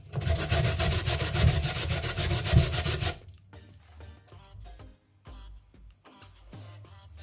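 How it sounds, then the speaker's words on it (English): A potato being grated by hand, with steady rapid rasping strokes sounding loud and close for about three seconds, then fainter scattered scraping and tapping. "So I'm done grating my potato."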